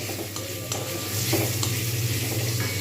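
Boiled amla (Indian gooseberries) fry in a pan for pickle, a close, continuous sizzle broken by scraping strokes of a spoon stirring them around.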